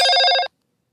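A telephone bell rings in one brief bright trill lasting half a second, loud and close, then stops into silence.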